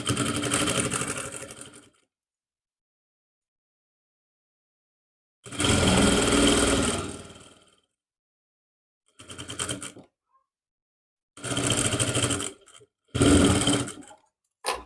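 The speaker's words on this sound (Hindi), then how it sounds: "अब इस कपड़े के ऊपर से ही हम सिलाई लगा देंगे" A sewing machine stitches over a suit cloth in several loud close bursts of rapid whirring, each a second or two long, separated by silent pauses.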